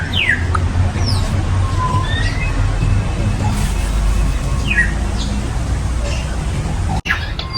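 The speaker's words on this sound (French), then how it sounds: "là nous sommes avec les oiseaux du zoo" Birds and parrots at the Abidjan national zoo give repeated short chirps and whistles at moderate distance over a steady rumble of crowd and traffic noise, with a sharp click near the end.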